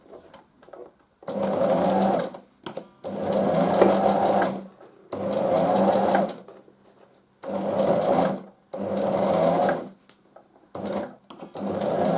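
A sewing machine stitches fabric face masks in five or six steady bursts of a few seconds each, separated by short pauses, close and fairly loud.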